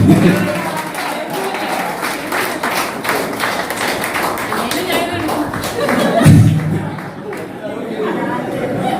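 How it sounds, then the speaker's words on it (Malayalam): An audience at a retirement function applauding, dense rapid clapping from many hands throughout, close and fairly loud, with crowd chatter mixed in beneath. "കൈയടിക്ക്."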